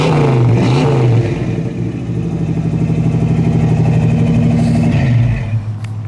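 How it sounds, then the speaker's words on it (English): A car fitted with brand-new dual exhaust tailpipes and chrome tips revs loudly up close, its engine note rising and falling in a throaty, pulsing drone before settling back toward idle. "This is dual exhaust sounds awesome."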